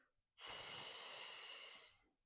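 A single long breath pushed out during a gentle morning Pilates side-plank spiral, airy and close, rising sharply, holding about a second and a half, then fading.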